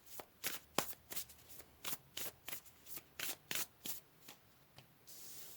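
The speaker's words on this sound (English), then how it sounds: "Let's pull some more cards for Aquarius." Tarot cards shuffled by hand in a string of quick, crisp riffling bursts, about a dozen evenly spaced slaps close by, with no talking.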